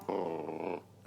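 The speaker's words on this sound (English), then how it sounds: "The dog." A dog growls in a low, sustained rumble for most of a second, then pauses before a short brighter sound ends it, heard close and fairly quiet.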